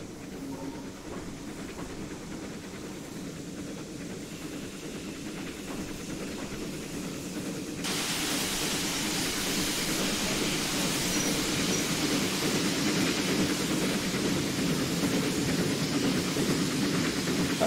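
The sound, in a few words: Bulleid Light Pacific steam locomotive in the video game Train Simulator 2021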